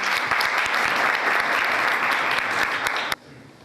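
An audience at a church New Year service claps to welcome a pastor, dense sustained applause at close range that cuts off abruptly near the end, leaving quiet room tone.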